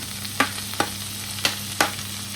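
Sautéed onions with ginger-garlic paste, green chili and curry leaves crackle steadily in a pan, with four sharp spatula scrapes spaced under a second apart, close by and with no talking.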